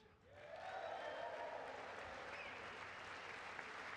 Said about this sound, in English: How many times do we get standing ovations and applause and all that stuff?